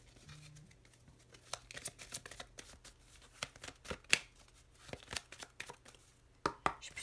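Small Lenormand cards handled and shuffled at close range, a quiet irregular stream of soft riffling snaps and papery flicks with a couple of sharper clicks.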